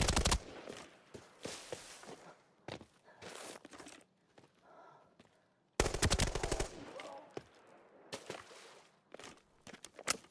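Gunfire in the shooter game Arena Breakout Infinite, loud bursts of rapid shots in two clusters separated by a quieter stretch with faint footsteps, sharp close cracks repeating irregularly.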